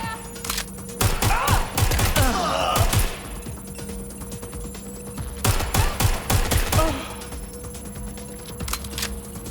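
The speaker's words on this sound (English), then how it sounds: "Gunfire." Two bursts of rapid automatic gunfire in the video game Watch Dogs: Legion, each a couple of seconds long, separated by a quieter stretch with a faint background hum.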